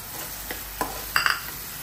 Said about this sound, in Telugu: మగ్గేదాకా మనం వీటిని వేపుకోవాలి.